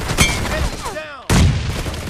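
Gunfire in Battlegrounds Mobile India, a burst of sharp shots with whizzing ricochet tones, then a loud blast near the end, heard up close with some game voice chatter around it.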